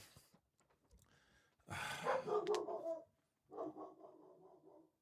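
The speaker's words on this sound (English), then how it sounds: "And now she barks." A female dog barks indoors in two loud bursts, the first a dense cluster of barks around the middle and the second a quicker run of yaps near the end, with quiet room noise between.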